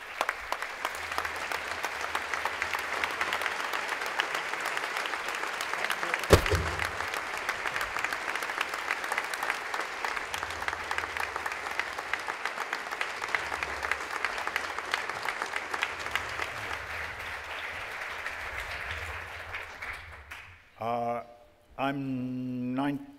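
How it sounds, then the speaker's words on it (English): Sustained standing ovation from a conference audience honoring a retiring editor, dense clapping for about twenty seconds before it fades out and a voice begins speaking. "extraordinary applause."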